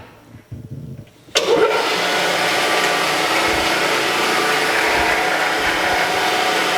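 A Landis 3S surface grinder switches on after a quiet start: a sharp onset leads straight into a loud, steady broadband motor and wheel whine that holds evenly to the end, with no voices.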